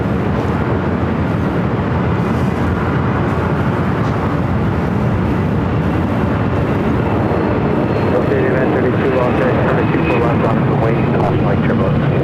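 A Delta Boeing 757 jet airliner at LAX gives off a loud, continuous broadband jet roar that holds steady throughout, close by, with voices faintly mixed in.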